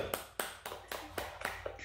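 A small group of children claps for Farida in a brief burst of about eight sharp, fairly even hand claps, close and slightly uneven in rhythm, with no talking.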